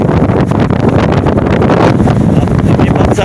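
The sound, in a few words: strong typhoon wind blowing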